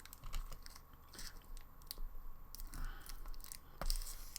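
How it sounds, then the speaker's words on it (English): Small 2.3 by 4 mm screws for an Eddie Stobart model truck kit are cut free, giving scattered sharp clicks and light crackling snips, close by but quiet, with no talking. "And one of which is spare, and I will cut those now."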